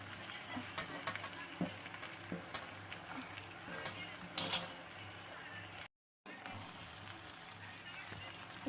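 Poha being stirred in a frying pan with turmeric, a steady sizzle with scraping spoon strokes and clinks throughout, close and moderately loud, briefly cutting out near the end.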